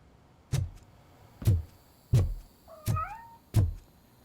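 Cat meows in the video game RoboCop: Rogue City, five short clear calls spaced roughly evenly about a second apart, fairly close, with a brief high tonal chirp between the last two and no talk.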